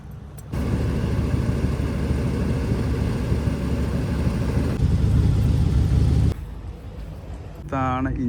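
A Lincoln Continental's 7.5 litre V8 engine running: a steady, deep, loud drone with low rumble. It continues throughout, briefly changes tone, then quietens before a voice speaks over the end.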